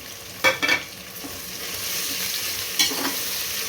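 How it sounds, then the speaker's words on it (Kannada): Mint leaves crackle and sizzle in hot oil for mutton biryani, with a couple of sharp stirring scrapes near the start and another near the end over a constant frying hiss. "ನಾನು ಇವಾಗ ಪುದೀನ ಸೊಪ್ಪನ್ನ ಆ್ಯಡ್ ಮಾಡ್ಕೊತಾ ಇದ್ದೀನಿ."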